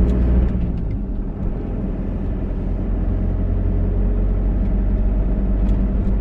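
A camper van rolls along a large parking lot full of coach buses during a trip to the Dutch tulip fields, giving a steady, loud engine and road rumble heard from inside the cabin without talk.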